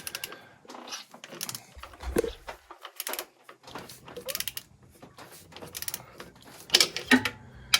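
An alternator belt on a Mazda RX-8 turbo with a side-mounted alternator is turned slowly by hand, giving a close series of irregular mechanical clicks, ticks and light rattles with quiet gaps between them.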